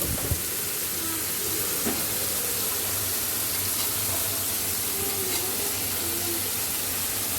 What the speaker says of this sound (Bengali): এখন এটার মধ্যে আলু ভেজে নিব।